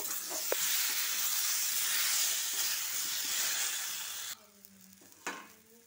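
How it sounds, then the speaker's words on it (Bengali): A ground paste of coriander, cumin, ginger and green chilli fries loudly in hot oil, a dense bright sizzle with stirring that cuts off abruptly near the end, leaving a quiet room and a single clatter. "মশলাটা দিয়ে এবার কষিয়ে নেব।"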